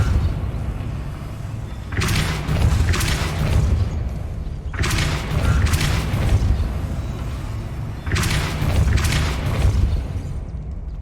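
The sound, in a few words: Depulso spell cast in Hogwarts Legacy video game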